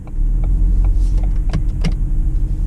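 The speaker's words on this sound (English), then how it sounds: "I'm gonna go ahead and put it in drive, and I'm just gonna give it a go" A Ford Fiesta with an automatic transmission pulls away in drive from a parking lot, a low, loud engine rumble with light clicks and cabin rustles over a few seconds.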